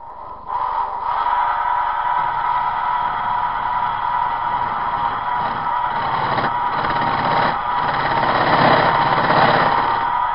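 A countersink bit cuts into the end of a fabricated metal jigsaw blade holder, a steady whirring, grinding drone that runs continuously and close for the whole stretch, growing slightly louder toward the end, with no talk.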